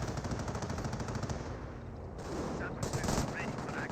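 Rapid machine-gun fire and rifle shots in the World War II strategy game Company of Heroes, dense crackling bursts close and loud, with a commentator speaking underneath.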